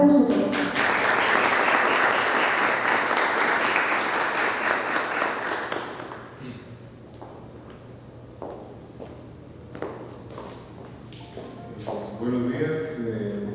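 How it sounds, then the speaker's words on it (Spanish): A conference audience applauds to welcome a speaker, loud sustained clapping for several seconds that fades out, followed by quieter shuffling and scattered taps in the hall. "Por favor, doctor Melgar, lo recibimos con un aplauso."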